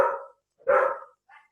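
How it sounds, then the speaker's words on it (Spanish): A dog barks indoors, two short barks followed by a softer yip, fairly close and alone, during a home online physics class. "Perdón si escuchan mucho a mi perro."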